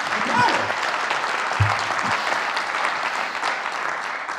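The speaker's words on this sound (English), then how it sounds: "I'm sure you can hear the applause." A tech-conference audience breaks into sustained applause, a full, even patter of many hands running for over four seconds, with a few louder thumps and faint voices mixed in.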